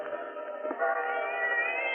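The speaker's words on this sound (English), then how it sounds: "Somewhere a cat howled against the moaning wind that had sprung up." A cat howls in a radio drama sound effect, one long drawn-out wavering yowl that holds steady and loud for about two seconds, alone with no other sound.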